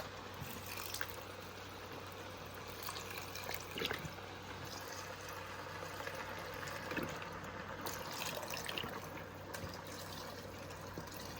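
Beef broth poured into a jerk stout shepherd's pie filling, a faint, steady trickle of liquid running for several seconds with no voices.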